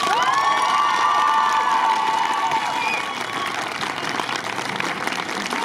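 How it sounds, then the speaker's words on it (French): A crowd applauds and cheers loudly and steadily for a speaker named Kéliane, with whistles and shouts over dense clapping that eases slightly partway through. "On applaudit encore, s'il vous plaît, parce que c'était super"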